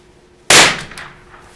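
A single sharp gunshot from a cheap .22LR rifle cracks out close by in an outdoor shooting setting, then decays quickly with a faint trailing echo.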